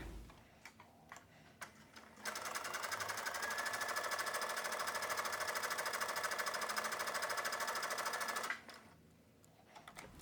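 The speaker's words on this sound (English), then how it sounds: "sew a gathering stitch or basting stitch down the very center of each of the ruffles" A sewing machine runs a gathering or basting stitch down the center of tulle ruffles, starting with a few faint clicks, then stitching steadily and fast for about six seconds before stopping, close and fairly quiet.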